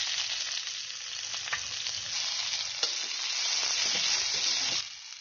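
Chopped onion and green chili sizzle steadily in hot oil in a pan, a continuous bright frying hiss with faint stirring scrapes, close and even, fading slightly at the end, with no voices.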